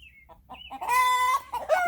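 Chickens cluck in a hen yard on a ranch, a few soft clucks giving way to a loud, drawn-out crowing call and then more clucking, close by with no talk.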